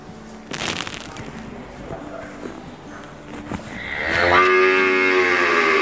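Bali cattle on a farm give a loud, drawn-out moo late on, preceded by shuffling, snorting and scattered knocks close to the microphone.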